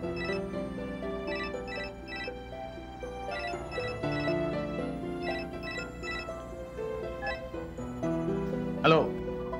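A telephone rings with a repeating melodic ringtone pattern, clear and mid-level, while people talk over it and a sharp bright accent sounds near the end.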